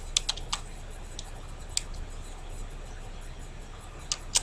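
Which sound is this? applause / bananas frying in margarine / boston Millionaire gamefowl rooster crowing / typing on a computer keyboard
typing on a computer keyboard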